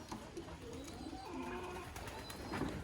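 Racing pigeons in their loft give soft, low cooing calls that rise and fall across the clip, fairly quiet under a steady ambient hiss, with no talking.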